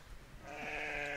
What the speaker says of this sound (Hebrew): זה כבש